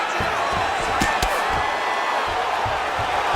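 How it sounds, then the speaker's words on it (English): Simulated arena crowd in the UFC 5 video game cheering and roaring at a fight as the fighters scramble back to their feet, a steady loud wash of crowd noise with occasional sharp thuds and slams layered over it. "So the crowd absolutely loving it as these fighters work their way back to the feet."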